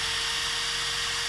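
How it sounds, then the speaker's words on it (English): Steady high-pitched whine of a drill boring new bolt holes through epoxy and fairing compound on a boat repair, running continuously and loud at close range with a constant tonal hum underneath. "Now it's time to drill the new bolt holes."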